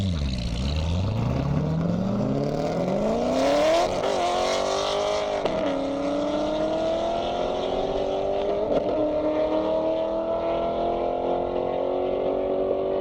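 Race cars, a Corvette among them, roar past at high speed down an airstrip. Engines climb through the gears in loud rising sweeps, then hold a sustained high-pitched scream as they pull away into the distance.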